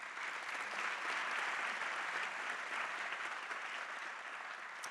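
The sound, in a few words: applause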